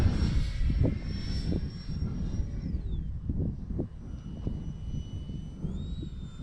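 E-flite Habu SS radio-controlled jet streaking past at full speed into the wind, its ducted-fan whine rising and falling in pitch as it passes, a steady loud roar throughout.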